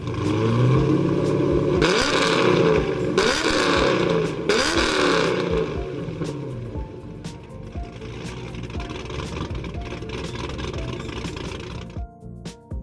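A real crossplane V8 engine runs close by with a rumbling, even beat, revving in several loud bursts before settling back to a steady idle.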